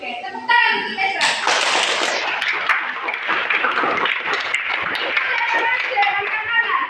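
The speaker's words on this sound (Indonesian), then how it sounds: "Oke, tepuk tangan untuk Esra." Children in a classroom clap for a classmate named Esra, a close, uneven burst of hand clapping with a few bright taps, following a short sung or spoken tone and mixed with children's voices.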